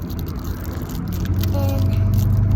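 Riding in a Ford Mustang convertible brings a low, continuous road and engine rumble with wind buffeting and faint rattles, swelling slightly louder toward the end.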